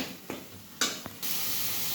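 Onion sizzles in a hot pan while paneer bharta is cooked, a faint steady frying hiss broken by a few sharp stirring scrapes, then swelling into a louder, constant sizzle.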